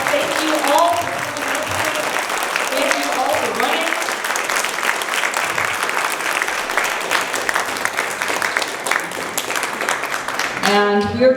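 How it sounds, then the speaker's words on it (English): An audience at a Republican candidate forum in Adams County, Idaho gives the candidates a long, steady round of applause, dense clapping that holds for about eleven seconds, with voices mixed in and a brief voice near the end. "we give them all just a giant round of applause"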